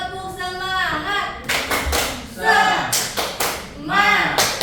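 A class of students performs a rhythmic spirit clap in a classroom, bursts of hand claps and taps in a patterned rhythm mixed with chanting voices and talk.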